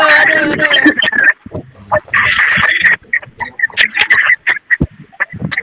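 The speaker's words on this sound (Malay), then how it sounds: "Oh, ada bunyi ayam." Chickens clucking and squawking in bursts behind a live online class, loud and close, with an adult voice talking across the calls.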